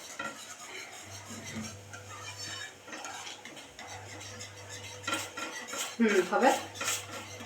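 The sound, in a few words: stirring khandvi batter in a pot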